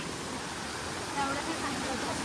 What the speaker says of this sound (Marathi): फायनली दिसला वॉटरफॉल हे बघा